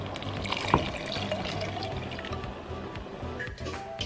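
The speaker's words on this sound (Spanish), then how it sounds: "Y le voy a agregar poquita más agua." A little more water poured into a pot of beef picadillo, a light trickling and dribbling with a sharp clink early on, quiet and close over a faint kitchen background.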